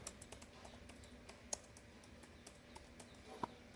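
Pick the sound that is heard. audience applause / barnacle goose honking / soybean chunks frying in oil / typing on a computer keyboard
typing on a computer keyboard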